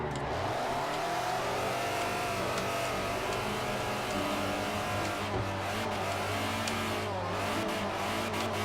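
Toyota TRD AE86 in Forza Motorsport 4, its engine revving hard and steady through a drift, with a sustained buzzing note and intermittent tire squeal, loud and continuous with no talk.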